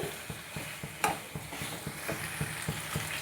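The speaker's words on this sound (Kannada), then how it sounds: "ಕಾಳುಮೆಣಸು ಮತ್ತು ಜೀರಿಗೆ ಸೋಂಪು ಆ ಪೌಡರ್ನ ಹಾಕಿ ನೀಟಾಗಿ ಸ್ವಲ್ಪ ಅದರಲ್ಲೂ ಸ್ವಲ್ಪ ಅದು ಚೆನ್ನಾಗಿ ಮಿಕ್ಸ್ ಮಾಡಿ ಬೇಯಿಸಬೇಕು" Pepper chicken being stirred in a pan with ground pepper, cumin and fennel, soft scraping strokes in a steady rhythm over a faint sizzle, with one sharper clink of the utensil against the pan.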